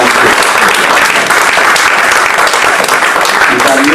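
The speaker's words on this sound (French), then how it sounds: "Est-ce qu'on peut les acclamer?" A church congregation applauds the pastoral group, giving loud, continuous clapping from many hands that fills the room evenly throughout without pause.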